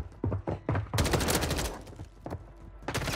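Rapid bursts of video game gunfire from a strong gun, sharp repeated shots in quick clusters with a dense sustained volley in the middle, loud and close.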